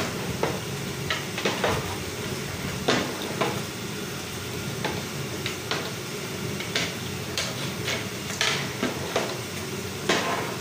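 Boiled unsalted potatoes being stirred with water in a cooking pot for aloo tarkari, with repeated soft scraping and knocking strokes of a spoon over a steady background hiss, close and continuous.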